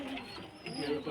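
Pigeons of the flying breeds known as haat baji and chouko kept in a loft, cooing softly and continuously as a close, low murmur with no talk over it.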